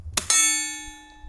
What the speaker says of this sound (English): Let's go ahead and shoot the first one to some steel.